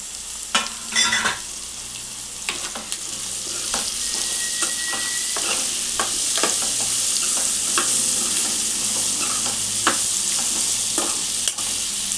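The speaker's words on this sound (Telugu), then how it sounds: "ఉల్లిగడ్డ వేగింది కదా, ఇప్పుడు ఆలుగడ్డ కూడా వేసుకోవాలి." Onions and potatoes sizzle steadily in a pan on the stove while a utensil stirs them with repeated scraping clacks, close and continuous without talk.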